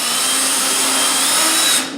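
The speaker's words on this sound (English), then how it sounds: "when you're drilling lots of holes or just drilling one hole" A power drill bores a hole during a projection screen build, its motor whining at a steady high pitch, close and loud, then winding down sharply at the end.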